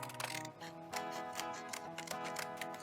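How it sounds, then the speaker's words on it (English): Scissors cutting out small paper flags, repeated crisp snips in an uneven rhythm, quiet and close, with no voices. "We have to make sure we're safe around scissors."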